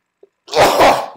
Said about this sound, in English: I'm about to sneeze here